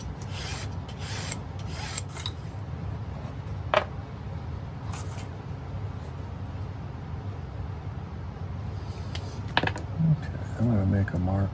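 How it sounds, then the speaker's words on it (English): A hand file rasps back and forth across a metal jewelry setting for a turquoise nugget, filing the top flat in a series of short, close, scratchy strokes with brief pauses between. "Just filing the top flat here."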